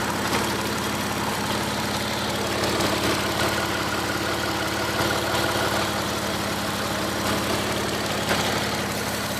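Car engine idling steadily at about 600 rpm during an engine and gearbox test, a loud, continuous low rumble with an even knocking pulse throughout and no other sounds.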